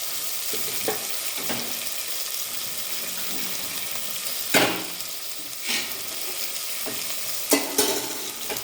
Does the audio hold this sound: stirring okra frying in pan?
yes